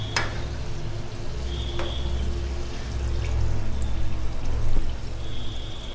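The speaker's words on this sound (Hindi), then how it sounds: "अब इसको भी इधर से तल लेंगे।" Gujiya pastries made with mava and suji frying in hot oil over medium-low heat, a steady low bubbling sizzle throughout with a few faint clinks, no talking.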